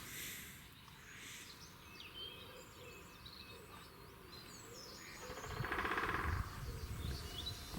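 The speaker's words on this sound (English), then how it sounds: "That has to be the loudest woodpecker I've ever heard." A loud woodpecker in the wild beside a carp fishing lake, a burst of rapid drumming rising midway and lasting about a second, set against steady birdsong and chirping.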